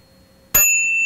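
A pair of Thai hand cymbals is struck once with an open stroke, giving a sudden bright clash that settles into a loud, sustained metallic ring lasting to the end.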